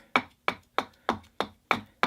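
A carving tool chops into a wooden spoon blank in seven sharp, evenly spaced knocks about a third of a second apart, close and crisp with quick decays and no talking.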